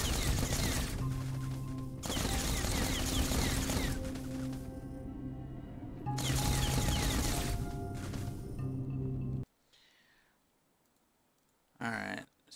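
Plasma rifle fire in a sci-fi shooter game comes in three long, loud, continuous bursts of crackling noise, then drops to near silence before a short final burst.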